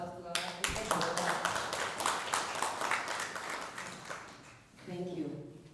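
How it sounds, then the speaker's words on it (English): A crowd claps in a burst of applause, rapid overlapping hand claps that fade, followed briefly by a voice speaking. "Can we give a hand of applause to our Archdeacon?"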